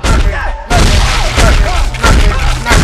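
Heavy melee blows land on an enemy in the sci-fi horror game Dead Space 3, a series of loud, close, booming thuds and crunching impacts in quick succession, with a brief drop in level partway through.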